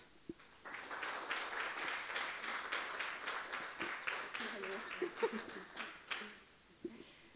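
An audience claps warmly to welcome two filmmakers at a talk event. The applause builds quickly and holds for about six seconds, then thins out as a voice begins.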